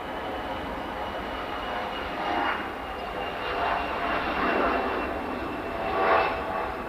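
A jet airliner at Manchester Airport rumbles and roars in the evening, a steady broad engine noise that swells several times as planes pass in the distance.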